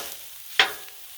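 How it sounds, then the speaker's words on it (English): Rice tossed onto a hot Blackstone griddle to sauté for pork fried rice, one sharp sizzling burst as it hits the metal, then a short fading hiss, close and alone. "And then I threw in some rice and let it saute."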